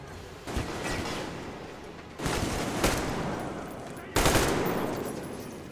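Three bursts of automatic gunfire in Metro Exodus, each a sharp rattling volley that sustains for a couple of seconds, the last one loudest.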